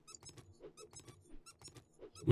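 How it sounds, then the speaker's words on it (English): Squeaky toy hammer hit sounds in the video game 7 Days to Die: a run of quick, high rubbery squeaks in repeated clusters, ending with a louder thump. "It sounds like you're hitting with one of these kids' toy hammers, you know, the one with the squeaky ends."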